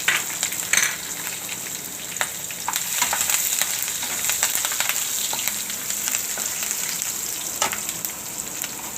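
Asafoetida, peanuts and green chilies sizzle steadily in hot oil in a home kitchen pan, a loud crackling fry with scattered pops and spits running throughout.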